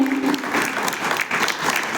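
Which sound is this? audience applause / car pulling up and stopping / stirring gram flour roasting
audience applause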